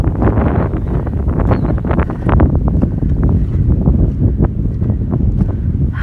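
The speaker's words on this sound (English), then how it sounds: "It's so windy." Strong wind buffets the microphone in loud, gusty roaring bursts that continue without a break.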